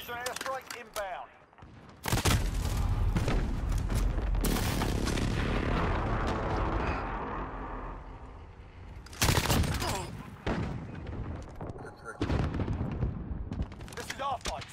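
Call of Duty Modern Warfare gameplay with an airstrike: heavy booming explosions and rattling bursts of gunfire, loud and dense, with a long sustained blast roar in the middle, sharp shot clusters at the end, and voices talking in places.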